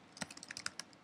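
Quick burst of about a dozen light keystrokes on a computer keyboard while a password is typed, close and faint, uneven in rhythm, with no talk.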